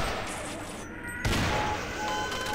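Gunfire bursts in the Half-Life Sven Co-op game, a sharp loud onset midway followed by a dense rattling spray that keeps going, with faint talk in the background.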